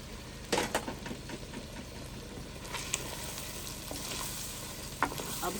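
Tomatoes added to a pan with fresh coriander and fenugreek greens, frying with a steady, moderate sizzle and a few sharp clicks and clatters on top, no voices.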